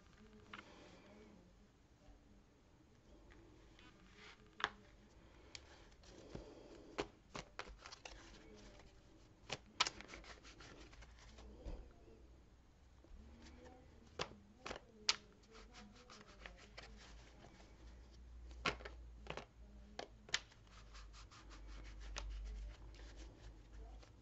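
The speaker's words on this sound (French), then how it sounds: "je tire la carte des nouvelles" Tarot cards being shuffled and drawn on a table, faint papery rustling with scattered sharp flicks and snaps of cards, quiet and close throughout.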